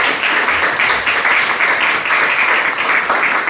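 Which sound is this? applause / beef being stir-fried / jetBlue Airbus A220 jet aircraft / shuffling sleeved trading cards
applause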